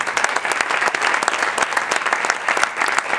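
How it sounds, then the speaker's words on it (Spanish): Dense, steady audience applause fills the whole stretch at a Startup Weekend Sevilla project presentation event, many hands clapping at once without any break. "Otro aplauso."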